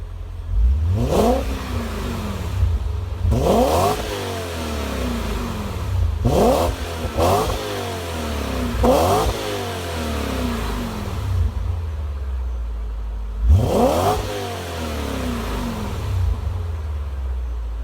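A BMW M5 engine revs repeatedly in short bursts, each rise and fall with a deep, throaty exhaust rumble through boiler mufflers between idling stretches, close by.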